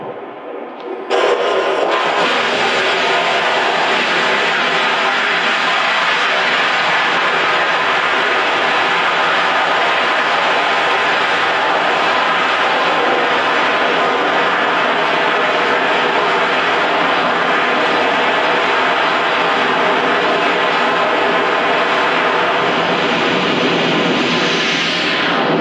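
A rocket engine roars to life in launch footage, a sudden loud, dense broadband rumble that starts after a brief quieter moment and holds steady and powerful for over twenty seconds with no voices.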